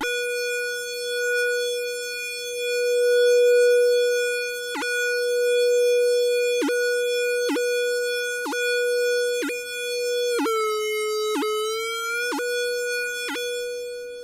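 Arturia MicroFreak synthesizer playing a bright, steady tone that is repeatedly interrupted by quick, evenly spaced sweep blips separated by level plateaus, with a wobbling pitch dip near the end; no voices.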